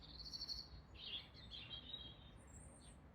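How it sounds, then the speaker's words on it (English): Birds sing outdoors in winter after rain, with bright, high chirping phrases rising over a steady insect-like trill and faint background hum; no one speaks. "Birds are out again singing."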